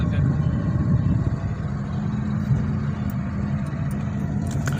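A car pulling away and gently accelerating during a driving lesson, a steady low engine and road rumble running continuously at moderate level with no sharp events.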